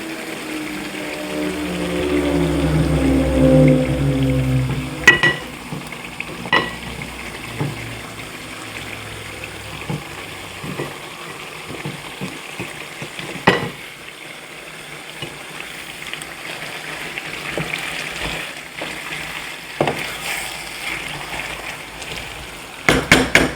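Spinach stirred into egusi soup in a hot pot using the fried method, a loud sizzle and bubbling at first that settles into scattered clanks and scrapes of a spoon against the pot.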